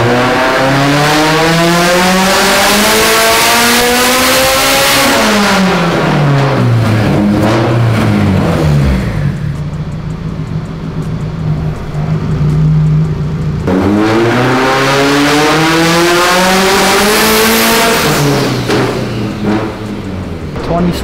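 A tuned, turbocharged Honda F22C at around 27 pounds of boost revs hard, climbing in two long sweeping pulls that rise to a high scream and fall back, with a lower idle-like stretch between, loud and close.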